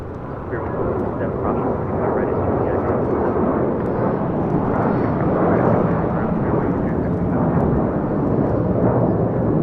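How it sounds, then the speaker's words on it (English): Japan Airlines Dreamliner jet arriving at LAX from Osaka, a loud, steady broadband jet roar that holds continuously throughout, close overhead and alone. "Japan Airlines Dreamliner coming in from Osaka"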